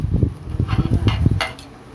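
Pancit noodles get stirred in a pan, producing soft scraping and light metallic clinks of a utensil against cookware in a quick, uneven rhythm, fairly close and moderately quiet.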